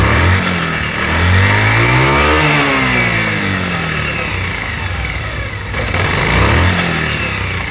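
A Bajaj Pulsar motorcycle engine, running after a gearbox repair, revs up and down loudly at close range, the pitch sweeping in a couple of rising and falling pulls over a steady running drone.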